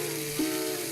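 Braised pork belly sears in a hot pan, giving a steady, close sizzle that runs unbroken through the short moment.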